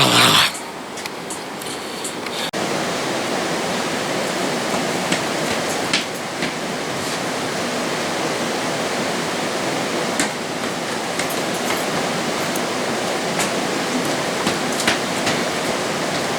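Racha mineral spring water flows in Georgia's Racha region, a continuous rushing, hissing stream close by, steady and fairly loud after a brief louder burst at the start, with no talking.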